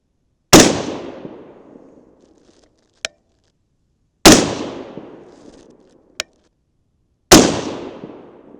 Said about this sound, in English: Let's shoot 3 more shots.